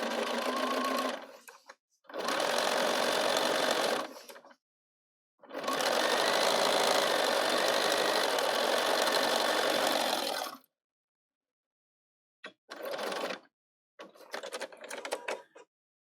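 A Bernina 770 sewing machine stitches a pocket with a short back stitch, running loud and close in several bursts of steady whirring separated by pauses, with a few brief stops and starts near the end.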